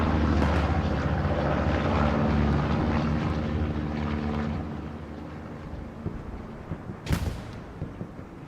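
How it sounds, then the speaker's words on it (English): A propeller recon plane drones overhead in the Hell Let Loose video game, a loud steady engine hum that fades somewhat midway, with a sharp distant crack near the end. "As that recon plane comes up"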